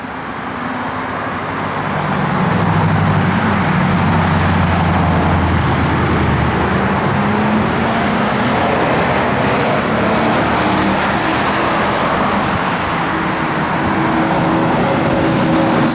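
A 1969 Dodge Dart GT with a Hemi driving along a road, its engine rising as it pulls away and then holding a steady loud drone of motor and road noise.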